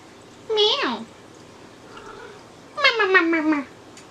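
A house cat meows twice at close range, a sharp rising-falling cry and then a longer drawn-out one after a short pause, in a quiet kitchen.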